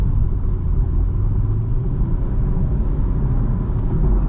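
A 2024 BMW M340i xDrive in sport mode takes a corner, its engine giving a steady, close, low rumble throughout with no voices.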